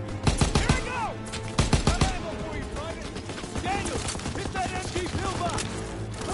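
Rapid machine gun bursts ring out in a World War II trench battle in Call of Duty WWII, loud and dense at the start, then continuing as steady gunfire under shouted battlefield voices.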